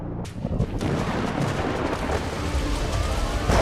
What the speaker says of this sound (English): A massive tropical thunderstorm is building in the skies above them